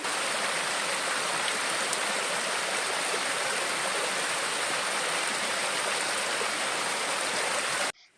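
A river flows in a continuous, close, full rush of water, steady and loud throughout. No voices are heard, and the flow cuts off abruptly at the very end.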